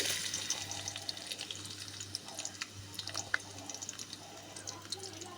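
Chopped onion dropped into hot oil in a pot for a mung dal fry, giving a steady crackling sizzle with scattered pops and drips under a low hum, no voices.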